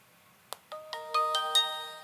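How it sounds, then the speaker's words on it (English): A Trisio Lite 2 camera powers on with a rising chime of six quick bright tones stacking into a sustained chord, fairly quiet and close, with no voice. "you can hear this brand new opening sound"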